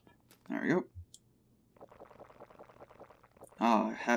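Water poured from a bucket in the TerraFirmaCraft video game, a soft splashing pour in the middle, with a voice talking before and after it.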